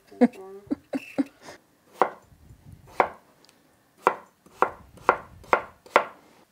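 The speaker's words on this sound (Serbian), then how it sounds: "Krompir seckamo na kockice samo zato da bi se brže skuvao" Potatoes being chopped into cubes with a knife on a board: about a dozen sharp, close knocks, quick at first and then in an even rhythm, with a brief voice-like sound at the start.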